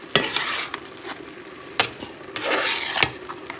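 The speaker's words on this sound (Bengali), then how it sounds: "এই শাকটা একটু নাড়াচাড়া করলেই অনেকটা কমে যাবে" Spinach frying in a wok, stirred with a utensil: a steady soft sizzle broken by sharp scraping strokes and clinks of the spatula against the pan, close and fairly loud, with no talking.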